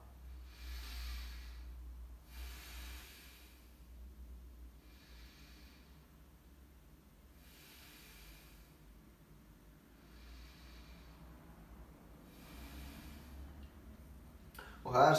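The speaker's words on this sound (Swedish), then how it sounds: "tar du ett par djupa andetag och försöker bara att andas med magen" Slow, deep belly breathing as a breathing exercise: several long breaths of soft airy rushes come in and out at a calm, even pace, close and quiet, ending in a brief louder burst.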